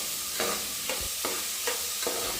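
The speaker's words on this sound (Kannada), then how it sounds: "ಎಣ್ಣೆ ಬಿಡೋವರೆಗೂ ತೊಗರಿಕಾಳನ್ನ ಚೆನ್ನಾಗಿ ಫ್ರೈ ಮಾಡ್ಕೊಳ್ಳಿ." Fresh pigeon peas and chopped onions fry in oil, a steady sizzle broken by several scraping stirs at a regular pace, close and alone with no voices.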